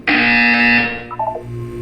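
Electronic buzzer from the Portal 2 video game: a loud, steady harmonic tone held for most of a second, then dropping into a quieter, wavering tail with no voices over it.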